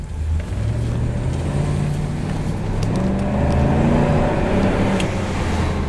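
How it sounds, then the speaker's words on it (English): A 1997 Lincoln car accelerating on the road, its engine droning loudly and rising steadily in pitch through the gears, heard from inside the cabin with constant road rumble. "So let me pull out here on the road, and as soon as we give it some gas,"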